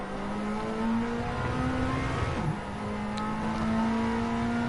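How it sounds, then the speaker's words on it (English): A Ford Mondeo touring car racing at Road Atlanta, heard from onboard: a loud, continuous engine drone with steady harmonic whine, briefly dipping as it shifts before climbing again. "on board with the Ford Mondeo chasing after Liam New's BMW at the moment"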